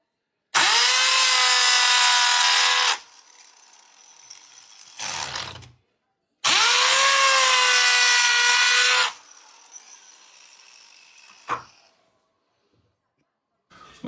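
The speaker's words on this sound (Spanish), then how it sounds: "Así que voy a tener que hacer unos agujeritos con una agujereadora aquí." Two long, loud whirring bursts from a power drill boring holes into wood for a homemade guitar built from scraps, each lasting a few seconds and winding down, with brief handling clatter in between.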